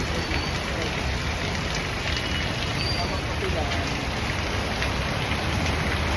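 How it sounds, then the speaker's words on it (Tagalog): Steady, dense rain hisses without a break, a constant wash of falling water that stays even and loud. "Waiting sa pagtila ng ulan."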